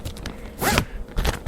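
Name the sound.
zipper on a plastic bag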